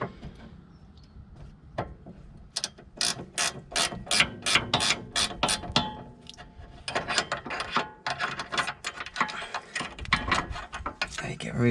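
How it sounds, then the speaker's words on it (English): An Allen key and wrench turning a nut off the anti-roll bar link of a Honda Civic EK3, a fast run of loud, close ratcheting clicks in bursts with brief pauses and no talking. "now we're easily able to remove this nut."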